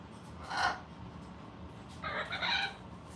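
A talking parrot lets out two harsh squawks, a short burst near the start and a longer, brighter cry later, with quiet room tone between them and no talk.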